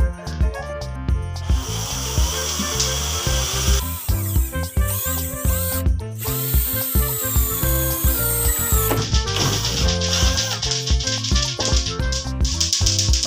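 A power drill boring a 12 mm hole with a drill bit through PVC pipe for a meatball mould, loud whirring bursts that start and stop several times with rattling between runs, close up and alone.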